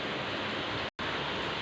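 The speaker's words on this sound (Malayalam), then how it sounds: "അത്യാവശ്യം നല്ല മഴ പെയ്യാണ്, ഇടിയും പൊട്ടുന്നുണ്ട്, നല്ല മഴയുണ്ട്" Heavy rain falls outside during a thunderstorm, making a loud, steady, even hiss that runs throughout and breaks off for a moment near the middle. No thunder claps stand out.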